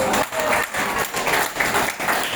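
An audience at a presentation skills session applauds with steady, dense clapping that swells and continues for a couple of seconds, filling the room.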